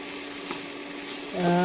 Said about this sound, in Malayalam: നന്നായിട്ട് എല്ലായിടത്തും ഒന്ന് പിടിക്കുന്ന പോലെ ഒന്ന് ഇളക്കി കൊടുക്കുക